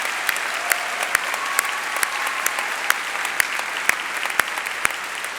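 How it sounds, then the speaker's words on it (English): An audience at a university recognition ceremony applauds steadily, a dense, even wash of many hands clapping with a few sharper individual claps standing out throughout. "let's give him a round of applause"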